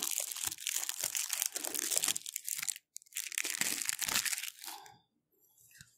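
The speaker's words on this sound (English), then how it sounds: "we're going to go ahead and unbox the, or unwrap, the deck." Plastic shrink-wrap being crinkled and torn off a Boss Monster 2 card deck, close and crisp, in bursts of crackling rustles with a brief pause midway, then fading to near quiet.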